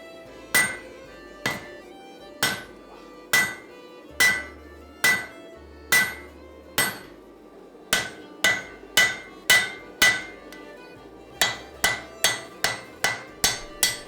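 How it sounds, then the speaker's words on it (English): Hammer peen spreading the blade of a forge-welded laminated steel axe on an anvil, loud ringing strikes at a steady pace, with short pauses and a faster closing burst. "I usually start by spreading the blade with the peen section of my hammer."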